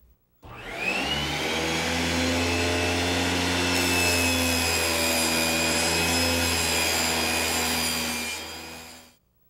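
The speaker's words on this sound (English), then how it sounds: "We're going to be using a table saw." A table saw cuts plywood with a steady, loud, high whine that holds for several seconds and then spins down, with no talk.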